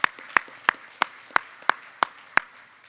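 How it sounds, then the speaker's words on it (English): A few people at a law enforcement torch run event for Special Olympics clap slowly and sparsely, about eight distinct spaced claps over a quiet background with no talk. "Let's give yourselves a round of applause here"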